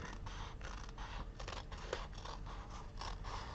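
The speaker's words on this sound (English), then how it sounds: "So this we're going to actually have to trim. The page and the tape," Scissors trimming a journal page and strip of tape, a quick series of close, crisp snips and scraping cuts in steady rhythm, quiet and alone.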